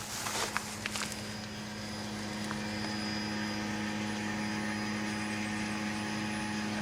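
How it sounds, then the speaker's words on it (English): A 1995 Ford Crown Victoria fuel pump priming, a steady continuous hum and whine held at even level throughout, with a few brief clicks near the start. "We'll come back and listen to how that fuel pump sounds."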